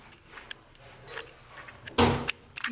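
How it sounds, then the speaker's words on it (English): Door being closed indoors in a home: quiet shuffling and small knocks, then one firm close thud near the end with a couple of lighter clicks after it. "let me close the door."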